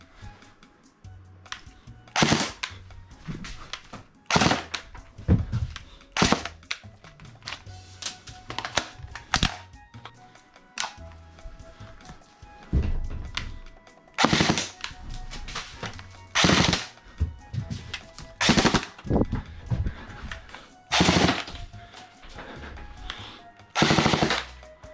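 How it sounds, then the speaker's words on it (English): An Airsoft Vector replica gun fires short bursts during a shooting test, with sharp close rattling volleys repeated at irregular intervals and quiet gaps in between. "Shooting test. Nice. 2-round burst chest."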